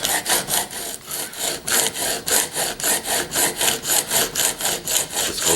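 A steel chisel is rubbed back and forth on a 3,000 grit whetstone in a steady, even rhythm of close, loud abrasive strokes, each scrape rising and falling about three times a second.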